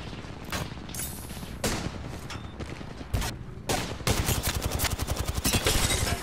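Rapid bursts of booming video-game cannon fire and blasts, loud and dense, building into a continuous barrage of explosive shots.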